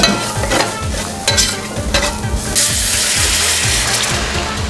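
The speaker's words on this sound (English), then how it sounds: "And you want to hear that sizzle." A lime juice sauce for salmon sizzles and bubbles hard in a hot pan, boiling down to thicken, with loud, steady frying hiss broken by rhythmic stirring and scraping strokes close up.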